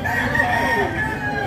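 A nine-month-old Red Kelso bloodline rooster at a poultry market in Padre Garcia, Batangas crows in one short, tonal call over a murmuring crowd of voices.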